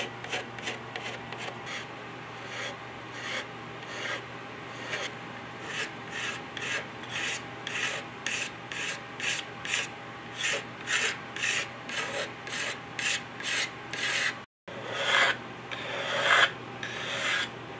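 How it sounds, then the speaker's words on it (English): Repeated rhythmic scraping strokes across a wooden flintlock muzzleloader rifle stock, each rasping pass close and distinct, continuing steadily with a brief pause before a few final strokes. "I'm not talking a lot while I'm doing this scraping"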